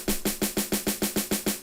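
A punchy tank snare layered over a deep Amapiano log drum thump repeats in a steady, even pattern, about ten hits in quick succession, crisp and close.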